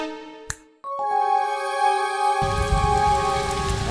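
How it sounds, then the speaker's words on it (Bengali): Steady rain hiss begins partway through and continues, mixed with sustained electronic musical tones and a sharp tap near the start. "হ্যাঁ বৃষ্টি পড়ছে দেখো দেখো কি সুন্দর পরিবেশ"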